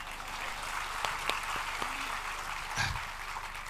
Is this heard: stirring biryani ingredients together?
no